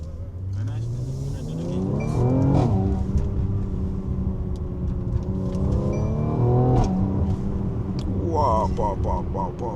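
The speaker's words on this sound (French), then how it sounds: "On va donner un petit coup d'accélération, un petit 0 à 60" A Mercedes GLC 43 AMG accelerates hard from standstill to 60, its engine roaring loudly up through the revs, with shifts at each gear change and crackles near the end. Heard from inside the car.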